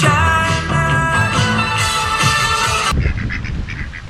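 Geese and ducks honk and quack loudly and close by in a dense, overlapping chorus. The nasal calls continue for about three seconds, then thin out into scattered, softer honks.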